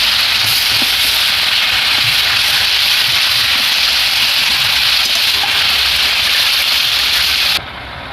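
Fish curry in a mustard-poppy seed paste bubbling in a pan, a loud, dense, steady hiss of boiling and sizzling close up, ending abruptly just before the end.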